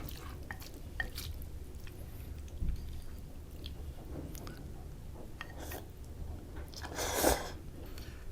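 Close, wet chewing and slurping of Shin Ramyun noodles in soup that have soaked up the broth, with soft squishy bites, small drips and a louder slurp near the end, no talking.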